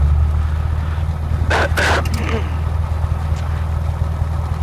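A Robin DR400 160 hp light aircraft engine idles steadily at 1200 rpm on the parking area after landing, a loud continuous low drone with people talking briefly over it.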